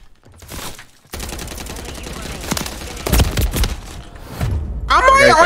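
Bursts of rapid gunfire in Modern Warfare 3, loud clustered volleys starting after a short pause and swelling toward the end, with a player's voice talking over the shooting.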